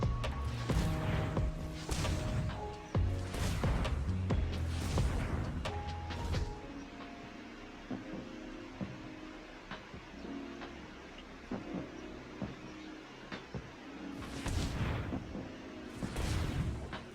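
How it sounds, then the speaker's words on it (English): Explosion effects in the MTG Arena digital card game: a cluster of loud booming, crashing bursts, a quieter stretch, then further heavy blasts near the end, with no speech. "So I think that's an explosion."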